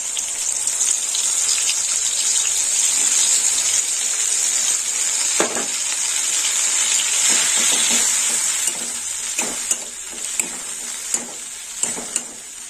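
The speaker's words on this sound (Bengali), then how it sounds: "মশলাটা একটু কষিয়ে নেব।" Ground spice paste mixed with water frying in a pan with moong dal cooking, a loud steady sizzle with a hissing edge, broken by scraping stirs that turn into a run of sharper knocks toward the end.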